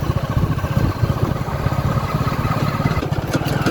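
A motorcycle engine runs steadily at close range, a continuous loud idle-like throb with rhythmic low pulses throughout, heard on a village outing without any speech.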